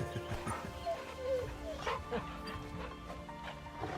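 Small dog in Final Fantasy 16 giving soft yips and whimpers, close, mixed with game music and ambience, while a person talks over it.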